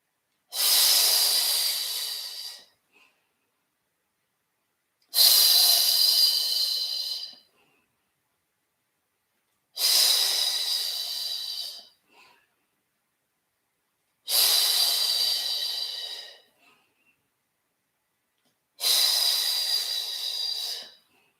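Five long, even breaths, each a strong airy hiss of about two and a half seconds separated by quiet pauses, during slow paced Pilates mat work, close and loud with no talking over them.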